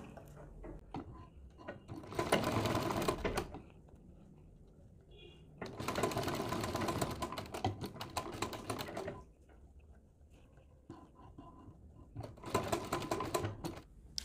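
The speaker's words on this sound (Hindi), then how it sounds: "अब हम पाइपिंग के बराबर बराबर सिलाई लगाकर पूरे दिल वाली शेप में पाइपिंग को तैयार कर देंगे।" A sewing machine stitches piping into a heart shape for a sleeve design in three separate loud bursts of rapid clattering, with quiet pauses between them.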